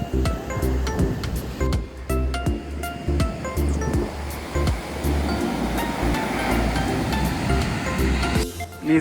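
Surf breaking at Ullal beach near Mangalore on a nearly empty shore, a rolling, swelling wash of waves with wind buffeting the microphone and scattered clicks and knocks, no one speaking.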